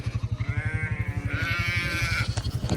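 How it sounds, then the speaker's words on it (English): A single sheep on a farm bleats loudly and close by in one long, wavering call. "Naughty sheep."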